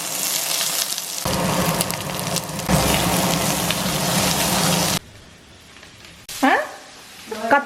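Spices such as mustard seeds, urad dal, chana dal and cumin crackle and sizzle loudly in hot oil for several seconds while tempering. The sound then drops away and a person begins speaking.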